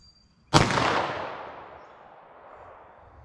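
A single sharp .380 ACP pistol shot firing a 90 grain XTP +P round cracks out close and loud, then rings off in a long fading echo outdoors.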